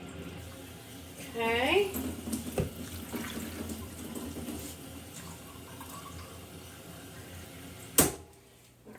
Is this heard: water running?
yes